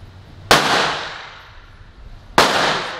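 Two sharp pistol gunshots at target practice, each a loud crack followed by a decaying ring, spaced about two seconds apart outdoors.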